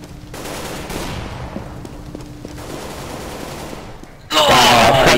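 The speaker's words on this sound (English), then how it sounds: "Shot him, dude. I shot him." Rapid gunfire from the game CS:GO rattles through steady bursts, ending in a sudden loud, close volley, with a player talking and breathing under it.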